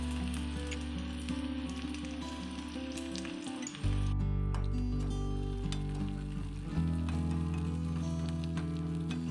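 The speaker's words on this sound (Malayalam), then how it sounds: "ഇനി നമുക്കിതിലേക്ക് കടുക് വറുത്ത് ചേർത്ത് കൊടുക്കാം" Mustard seeds fry in hot oil for tempering a tomato curry, a dense crackling sizzle with popping bursts throughout, close and steady, with a stirring shift partway through.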